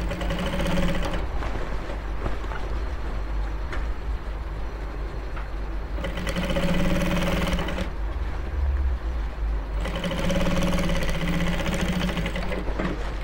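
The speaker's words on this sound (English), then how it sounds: "we are going to do our 3-line sewing on the bias" A sewing machine running three-line stitching on bias-cut fabric, with three long bursts of fast, steady whirring separated by short pauses, close and loud over a low hum.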